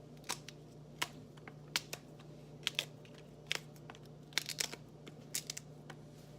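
A knife slices through a fresh bamboo shoot in a home kitchen, giving a quiet series of crisp, sharp cuts at an uneven rhythm, close and alone with no talking.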